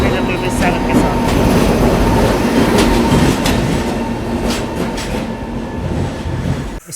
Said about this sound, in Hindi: अपनी जम्मू मेल आ चुकी है गोविंदपुरी रेलवे स्टेशन के प्लेटफॉर्म नंबर 1 में